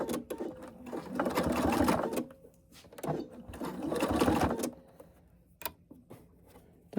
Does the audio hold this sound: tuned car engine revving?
no